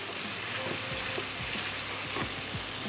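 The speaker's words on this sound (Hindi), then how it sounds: "थोड़ा सा इसको करते हैं स्टर" Pasta and ketchup stirred in a hot pan give a continuous sizzle with repeated scraping strokes of the spoon, close and steady.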